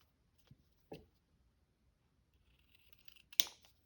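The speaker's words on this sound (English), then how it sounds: "And now I'm just going to trim the bottom." Quiet, sparse snips of scissors trimming the bottom edge of paper in a junk journal, a few faint cuts then one sharper close snip.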